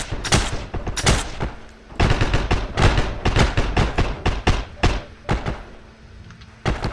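Gunfire in the video game Heroes and Generals: rapid bursts of shots and single cracks, loud and close, come in clustered volleys with short gaps between them.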